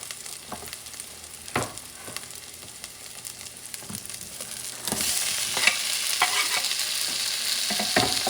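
Tomatoes being stir-fried with scrambled eggs in a pan, with sharp spatula scrapes and stirring knocks over a quiet sizzle that swells into a louder, brighter frying hiss partway through.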